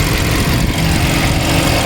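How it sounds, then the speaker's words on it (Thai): Engine of a 2020 Toyota Camry 2.0 G idles smoothly and steadily, with a constant low hum and a faint mechanical whir, heard close up and unbroken, with no voices. "เครื่องยนต์นี้เดินนิ่งแบบ นิ่งมากนะครับนี่"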